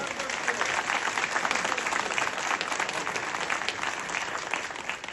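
Sustained applause from an audience at a neighborhood association review meeting, steady dense clapping throughout without pause, moderately distant.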